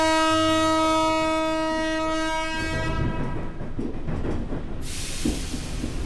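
A train in a security guard night-shift horror game sounds a long sustained horn, then rolls on with a rumbling, hissing clatter of cars that carries on loud and steady to the end, with no talk.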